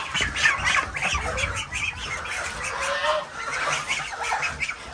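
Chickens following a person for feed give repeated squawks and clucks, close and fairly loud, layered over one another in a busy, restless flock for the whole stretch.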